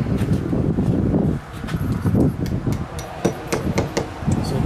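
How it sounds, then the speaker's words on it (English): A small hammer taps an anchor into a drilled hole in a rough stone wall while a doorbell is being installed. A run of sharp, irregular metallic knocks sounds close by over wind noise on the microphone. "So I'm going to get a little hammer there and tap that in."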